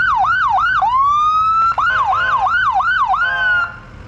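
An emergency siren from a restored 1947 military fire vehicle wails loud and close, cycling through rapid yelp sweeps, briefly holding a rising tone, then yelping again before cutting off.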